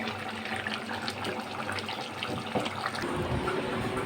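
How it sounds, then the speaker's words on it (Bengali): Duck meat curry bubbling in a pot, a steady wet simmering and gurgling close by that holds even throughout, with no talk over it. "এই যে মাংস এখন ফুটতেছে"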